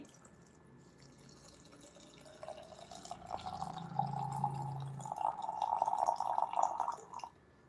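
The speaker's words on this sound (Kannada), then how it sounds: "ಸ್ವಲ್ಪ ಸ್ವಲ್ಪ ನೀರನ್ನ ಹಾಕಿ" Water is poured steadily into a pot holding bay leaves and cinnamon, a thin trickle swelling into a fuller splashing stream over several seconds, close and fairly quiet with no voices.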